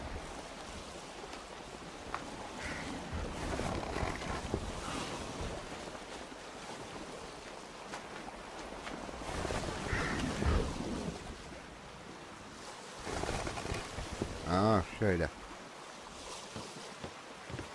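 Gusting wind and surging ocean waves in the video game ATLAS roll on continuously, swelling and easing, with a brief warbling electronic tone near the end.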